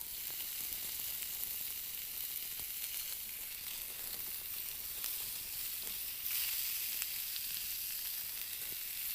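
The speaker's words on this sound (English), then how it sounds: "I thought, why not have some bacon while we're at it?" Bacon frying in a pan, a steady bright crackling sizzle running throughout with scattered sharper pops, close and fairly loud, no talk.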